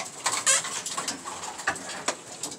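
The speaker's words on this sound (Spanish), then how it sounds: "Donde tengo todos los palomos y palomas trancadas." Caged pigeons, both male and female, coo and flutter inside a loft, with soft, close coos and scattered clicks and rustles at an irregular pace, no talking present.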